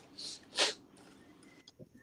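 A single sharp sneeze bursts out near the microphone, with a softer sniff-like puff just before it and brief quiet speech after.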